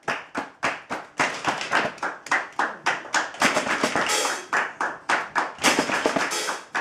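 An audience claps hands and slaps thighs together in a steady rhythm at a live jazz event, with sharp, loud, evenly spaced hits running throughout, no talking.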